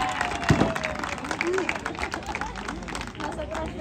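A crowd at a lucha libre wrestling exhibition claps, with scattered applause and crowd noise mixed with shouting voices and thuds close by.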